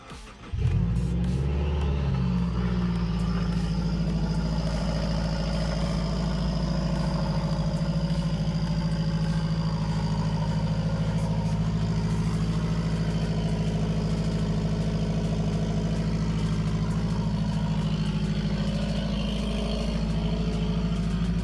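A 2015+ Subaru WRX engine with a Tomei header and open J-pipe exhaust idles loud and raspy, starting up abruptly and holding a steady, rumbling drone throughout.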